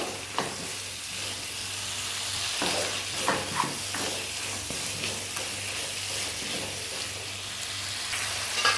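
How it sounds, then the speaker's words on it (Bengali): Raw papaya and mutton pieces sautéing in a pan for a mutton curry, with a loud continuous close sizzle broken by occasional stirring scrapes, no voices. "এবার আমি দিয়ে দেবো এই কাঁচা পেঁপেটা চার টুকরো মাংসের সাথে আমি ভালো করে কষিয়ে নেব"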